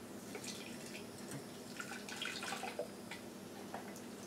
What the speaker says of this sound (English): first let's go ahead and pour out the old Dynapro